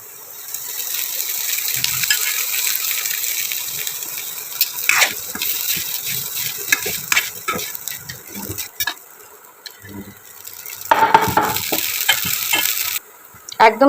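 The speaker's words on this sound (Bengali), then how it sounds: "তো এই চিড়েগুলো আস্তে আস্তে এর মধ্যে দিয়ে দেবো একদম" Rinsed flattened rice (chire) added a little at a time to a hot pan on low heat, with a loud hiss and sizzle as it hits the oil and irregular scraping stirs, louder bursts near the end.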